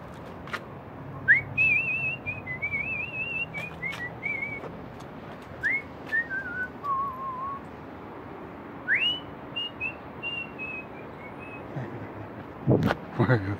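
A person whistles a series of rising and falling melodic phrases in separate bursts over a noisy background, ending with a few clattering knocks.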